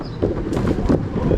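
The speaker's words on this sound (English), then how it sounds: "It's a little windy. Sorry about that noise." Brief, gusty wind buffeting the microphone in low rumbling bursts, no talking.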